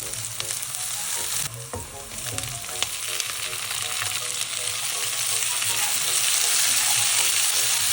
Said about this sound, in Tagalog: igigisa ko dito yung bawang, sibuyas at saka kamatis